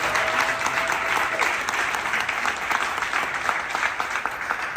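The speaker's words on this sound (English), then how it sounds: "Big round of applause, Brandon." Guests at the Tee Times Rochester Hills ribbon cutting break into a full burst of applause, a dense, lively clatter of many hands lasting several seconds.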